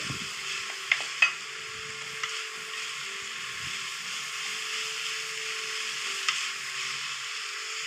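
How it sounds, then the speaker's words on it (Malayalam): Onions sizzle in a pan over medium-low flame for a squid dish, with a steady soft fry hiss and a few scraping stirs and clicks of the spoon against the pan. "ഇനി വീണ്ടും നന്നായിട്ട് ഇളക്കി കൊടുക്കാം. മീഡിയം ടു ലോ ഫ്ലെയിമിലാണ് വെച്ച് കൊടുത്തിട്ടുള്ളത്."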